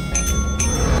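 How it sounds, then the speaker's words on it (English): The company bell in the video game Lethal Company is struck twice in quick succession, two bright metallic dings with a sustained ringing tone over a low hum. "Oh, I gotta ring the bell, Nick."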